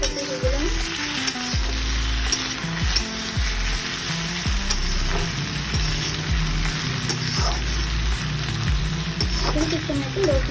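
Sliced ivy gourd (kunduri) frying in a pan, with steady close sizzling throughout and repeated stirring scrapes over it.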